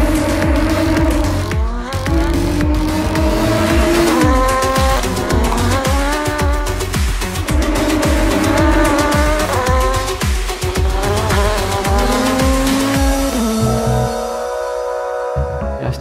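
Audi RS 5 DTM race cars roar loudly at a racetrack, engines revving through gear changes and downshifts in a continuous, dense wall of sound that briefly dips near the end.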